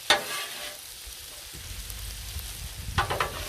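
Onions frying on a hot griddle give off a steady close sizzle and hiss, with brief scraping stirs at the start and again near the end.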